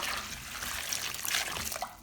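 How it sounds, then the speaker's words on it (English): Water pouring into a basin of oranges, a steady close splashing and trickling with no voices. "Pour in enough water to fully cover the oranges"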